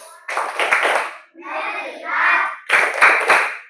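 Bursts of rhythmic hand clapping from a group during an ice-breaking clap exercise, in two quick clusters separated by a short stretch of murmuring voices.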